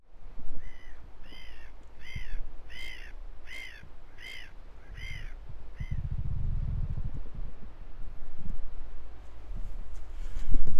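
Birds call at a saltwater lagoon, with oystercatchers and curlews named. A series of about eight harsh, rhythmic piping calls comes first, then wind buffets and rustles in the open air.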